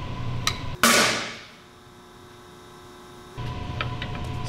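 A quarter shrinking machine discharges in a single sharp, loud blast with a crack, then its electrical hum drops away into near silence before the room's hum and noise return.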